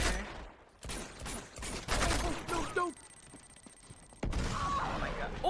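Gunfire in Uncharted 2: Among Thieves, loud shots and bursts in several clusters with a sustained metallic ringing passage between, close and punchy, with excited talk at moments.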